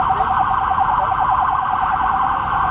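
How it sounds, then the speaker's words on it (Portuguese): Ambulance siren passing on a São Paulo street, a loud, steady wailing tone that holds near and strong throughout with city traffic rumbling beneath and no talk. "Então uma ambulância passando por aqui, mostrando pra você que isso é São Paulo."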